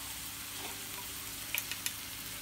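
Tomato and eggplant sauce sizzles steadily in a pan as chili is added, a constant close frying hiss with a few small clicks and taps near the end.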